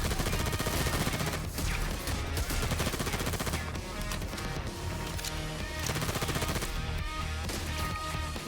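Continuous rapid gunfire from a secondary weapon in the video game Payday 3, loud and dense, with overlapping shots and impacts in a relentless sustained barrage.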